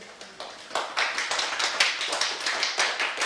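Congregation clapping in a Korean church Sunday service, starting with a few scattered claps and then swelling into rhythmic, fairly loud applause from the gathered worshippers.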